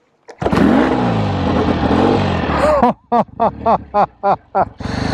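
A 1965 BSA Thunderbolt 650 motorcycle fires on a single kick and settles into a loud, throaty idle close by, then gets a string of about six sharp, evenly spaced throttle blips with short gaps between them.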